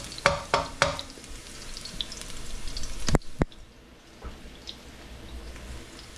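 Garlic sautéing in a pan for Bacolod-style tinolang manok: a few sharp utensil knocks and scrapes at the start, then a steady, soft sizzle with occasional stirring clatter, close and fairly quiet.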